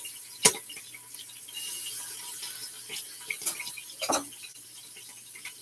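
A quiet pot of Vietnamese beef stew with garlic hisses faintly while sparse pops and small crackles from water break through, two sharp pops standing out well apart from each other.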